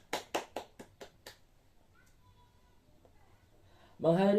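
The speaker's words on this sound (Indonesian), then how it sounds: "Tepuk tangan untuk kita semua" A class bursts into a short round of applause: about six distinct, fairly close claps in quick succession that fade into quiet, then a voice starts talking.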